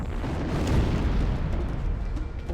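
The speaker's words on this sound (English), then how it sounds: "explosions are erupting" Explosions rumble from the space battle as the Pillar of Autumn escapes in Halo: Combat Evolved, a dense, continuous low boom with a slight swell near the start and no clear separate blasts.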